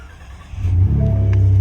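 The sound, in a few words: Ford F150 SuperCrew Lariat engine starting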